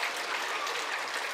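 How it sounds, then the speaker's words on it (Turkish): A crowd at a Ramadan event in Beykoz claps loudly, a brief steady burst of many hands applauding close by. "Şu boykot yapanlar bir alkışlasın bakayım be."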